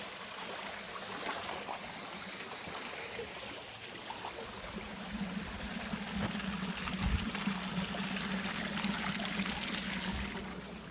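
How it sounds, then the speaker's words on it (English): A small waterfall stream on a hiking trail at Hunt Lake rushes and splashes in a steady, continuous wash, with a low motorboat drone humming in the background. "you can hear the water crashing right now"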